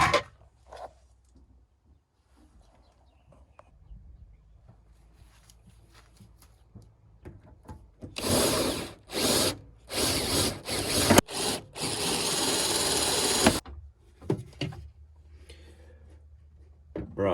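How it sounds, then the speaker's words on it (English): A drill cuts through the aluminium-clad body of a Land Rover camper from outside, several loud grinding bursts in quick succession after a quiet stretch with faint handling noises. "So I'm going to have to drill from the outside."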